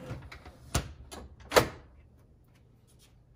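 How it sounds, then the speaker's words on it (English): The door of an IGT Double Diamond Deluxe slot machine shuts during a repair, giving a few sharp knocks and clunks, the loudest near the middle, in a quiet room. "Close the door."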